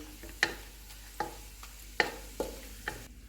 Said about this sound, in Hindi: इसमें साबुत मसाला डालेंगे। इसको 30 सेकंड तक फ्राई करेंगे।